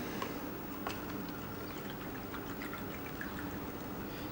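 Liquid pours steadily into a glass at close range, a faint continuous trickle with light splashing and no other sounds.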